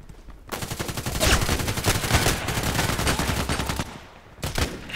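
Rapid automatic gunfire in the Contract Wars online shooter, a loud, dense burst of shots lasting several seconds that ends in a short final volley, with no talk over it.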